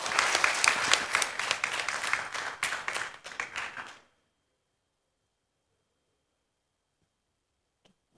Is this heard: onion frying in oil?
no